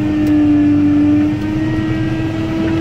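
Engine of a Trident sprayer running at high, steady RPM while roading at top speed, a continuous loud drone with a strong sustained tone that dips slightly partway through, no talk.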